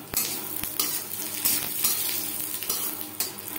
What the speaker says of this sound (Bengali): শুকনো লঙ্কা ভেজে নেওয়ার পর দিয়ে দেবো একটা তেজপাতা, ছোট 1 চামচ গোটা জিরে